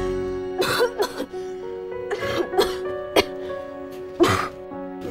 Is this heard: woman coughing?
yes